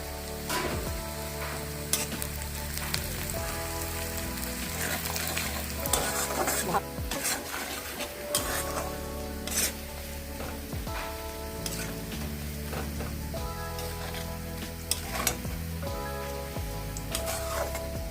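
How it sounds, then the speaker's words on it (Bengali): Onion, tomato and garlic fry in a pan for a rohu fish curry, with a steady loud sizzle and repeated stirring scrapes throughout, no voices. "পেঁয়াজ রসুনটা আমি ভালো করে ভেজে নিয়েছি"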